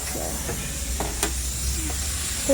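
A roti fries in oil in a pan with a soft, steady sizzle and a few light scraping touches, quiet and close.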